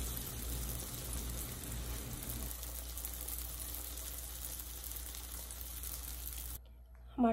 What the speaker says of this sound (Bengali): সবগুলো পিঠাকে আমি এভাবে ভেজে তুলে নেব